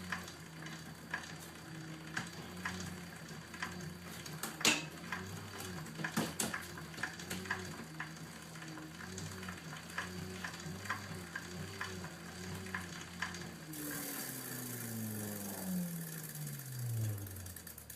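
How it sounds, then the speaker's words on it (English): A bicycle derailleur shifts gears on a pedal-powered generator, giving a steady whirring chain drone with a rhythmic warble and several sharp clicks, then a higher hum that slides downward near the end, with no voices. "derailleur working, changing gears"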